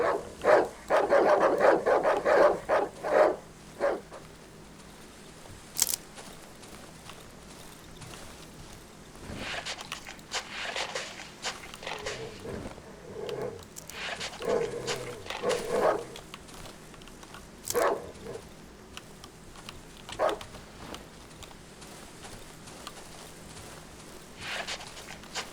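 Dogs in the horror survival game Darkwood bark and yip loudly at first, then settle into softer scattered whimpers and eating noises amid game ambience, with no talking.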